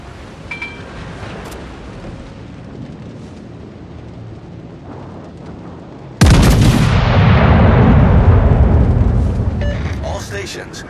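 Heavy warship gunfire from the Iwami in the video game World of Warships, a deep booming salvo that bursts in loudly midway and rumbles on, following quieter game ambience and a radio-style voice.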